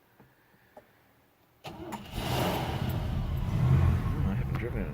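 A 1959 Cadillac sedan's engine cranks and fires after a near-quiet start, then settles into a rough, loud idle with a slight rise in revs, close by, while someone speaks briefly.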